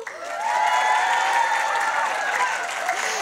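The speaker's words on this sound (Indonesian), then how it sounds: "tepuk tangannya dong" Applause and light cheering from an audience at a public speaking and master of ceremony training, building quickly and holding steady, with a tonal voice or music line running through the crowd noise.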